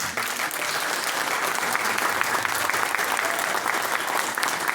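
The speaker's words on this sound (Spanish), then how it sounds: "Les pido a ustedes un fuerte aplauso" An audience at an education conference applauds a guest lecturer with sustained, even clapping from many hands, a steady wash at moderate distance that holds throughout.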